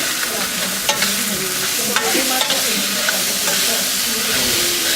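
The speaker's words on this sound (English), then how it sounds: "And then the potatoes. These two. And mix it." Boiled potatoes being stirred and mixed for chaat in a bowl, a steady close scraping and stirring texture with soft sizzle-like hiss running continuously and a few brief clicks.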